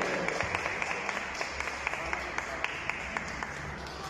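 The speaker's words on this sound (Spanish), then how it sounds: "Ya tenemos ahí los aplausos" Applause from a crowd at a boxing weigh-in for an international event, a steady wash of many hands with scattered sharper claps, fairly distant and moderate in level.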